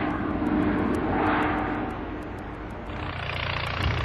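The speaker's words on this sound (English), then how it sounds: "the prop fan, designed to satisfy the demand for greater fuel economy and reduced noise footprints" A prop fan aircraft engine drones with a steady, loud roar and a whining tone that swells and fades slightly, heard alone without talking.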